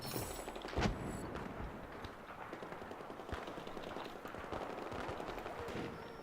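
Dense gunfire from the video game Battlefield 4, with bullets striking metal, forms a steady crackling barrage of rapid shots and sharp impacts over about six seconds, one louder burst near the start.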